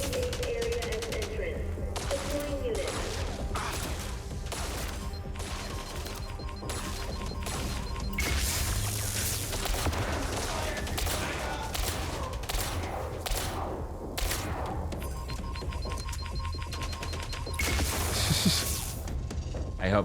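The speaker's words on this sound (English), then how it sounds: "Oh, it's a shotgun. This is way better. This is actual damage output." Shotgun blasts and impacts in a video game, repeated sharp bursts within a dense, loud mix of gunfire and crashing effects throughout, with some voices underneath.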